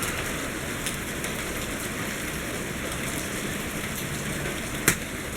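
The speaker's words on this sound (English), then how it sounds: "And just like I suspected, it's raining out." Steady rain falling outdoors during stormy weather, a constant even hiss of drops on surfaces with one sharp tap near the end, moderately close and alone.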